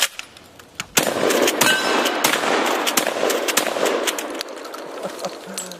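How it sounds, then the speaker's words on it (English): A shotgun slug fired at a plate gives one sharp loud blast followed by a long, rough, ringing wash that slowly fades, with small clicks before the shot. "I shouldn't have shot a slug at that plate that quick."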